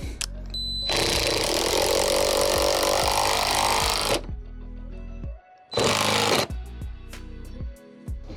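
A cheap Temu impact driver drives a bolt into wood in two loud, close bursts of rapid hammering, a long one followed by a short one, with quieter clicks and handling noise in between.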